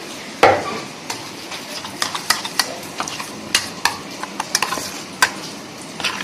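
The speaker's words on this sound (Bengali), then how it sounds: "এবার ভালো করে মিক্সড করে নিচ্ছি" A spoon stirs Thecha chicken sauce with honey in a pan, producing a quick, irregular run of close scraping clicks and taps over a soft background sizzle, with no talking.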